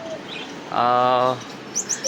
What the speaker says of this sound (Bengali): নতুন পাখি অ্যাড করছি